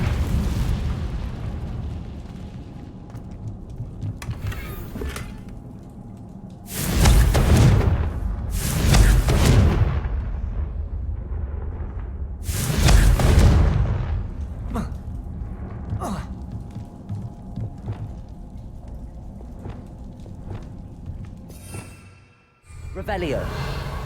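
Confringo blasting spell from the Hogwarts Legacy video game, three loud booming bursts about seven, nine and thirteen seconds in, over a steady game ambience with a brief dropout near the end.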